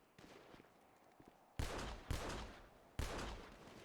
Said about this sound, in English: Missed every single shot.